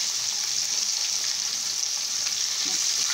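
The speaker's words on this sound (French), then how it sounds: "Je mets dans mon huile et on va laisser mijoter. Enfin, pas mijoter, on va laisser frire." Steady, bright sizzling of fish frying in hot oil in a pan, constant and close with no voices.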